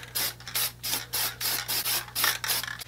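Heat resistant paint sprayed from a can onto a scooter deck, a run of short hissing bursts in steady rhythm with a constant low hum beneath, fairly close and moderate in level.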